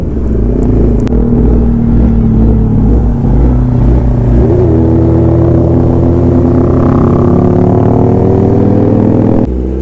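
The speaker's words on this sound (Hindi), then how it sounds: "इसकी जो साउंड है ना, ऐसा लग नहीं रहा है कि भाई ऐसे कोई सिंगल सिलेंडर बाइक है। कम से कम 2-3 सिलेंडर वाला साउंड तो है भाई इसका" A modified Yamaha R15 motorcycle revs loudly and close up with a deep, throaty rumble that sounds bigger than a single cylinder, holding a steady growl then swelling and shifting pitch across the blips.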